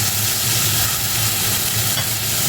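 Tomato sautéing in hot oil for a Jaffna-style ivy gourd curry, a loud, dense, continuous sizzle up close with no voices.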